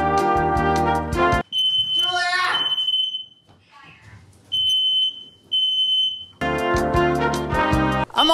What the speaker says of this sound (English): create a smoke alarm for a house that can tell the difference between an actual fire and someone cooking a steak